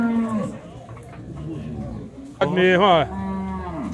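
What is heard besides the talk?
cattle mooing, calves in a pen at a livestock fair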